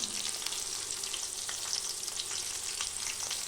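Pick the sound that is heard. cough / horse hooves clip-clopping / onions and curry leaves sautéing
onions and curry leaves sautéing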